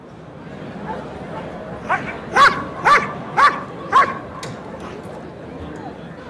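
A KNPV police dog in 1997 bitework trials gives four sharp, evenly spaced barks near the middle of the sequence, preceded by a softer yip, close and loud over faint background noise.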